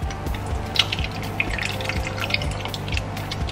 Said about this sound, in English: I've got some coconut milk here. This lasts a couple of days. I just pour in a small amount